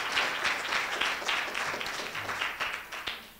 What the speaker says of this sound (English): So you guys can clap for Bree.